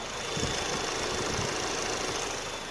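Smooth, quiet 2.5-litre petrol engine of a Chevrolet Impala idling close by with the bonnet open, a steady low hum with no talking.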